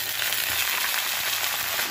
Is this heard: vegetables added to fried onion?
yes